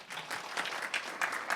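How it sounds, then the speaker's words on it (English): A forum audience gives brief applause, a quick burst of scattered clapping from a modest crowd in a hall, uneven and fairly soft, lasting just over a second. "Applause, please."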